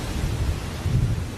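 During a tropical wet-season storm, a deep rolling thunder rumble dominates, backed by a constant soft hiss of falling rain, loud and unbroken throughout.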